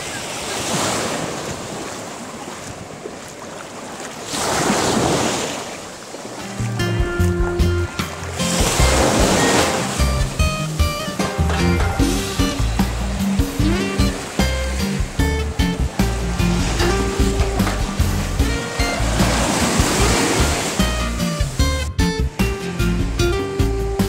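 Waves break along a black lava coast in Hawaii's Big Island, crashing in loud surges roughly every five seconds, with wind buffeting the microphone and a brief voice in between.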